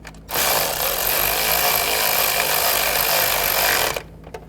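A power tool drives in the valve cover bolts on a 2007-11 Honda CRV, a single loud, close whirring burst of about four seconds that starts and stops abruptly.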